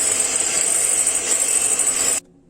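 An electric mixer whips Italian meringue at low speed as hot sugar syrup is poured in, giving a steady whirring, rasping drone that cuts off abruptly just before the end.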